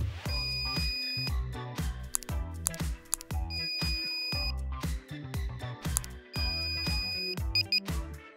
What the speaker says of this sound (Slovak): Po správnom zadaní kódu sa systém deaktivuje, čo potvrdia pípnutia bzučiaka.